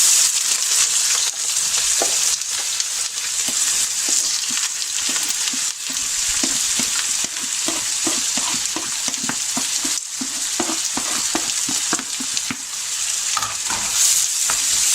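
Onions sizzle steadily in hot oil while being sautéed for a home-style Indian chicken curry, with a constant frying hiss and repeated scraping stirs of a spoon in the pan, no voices.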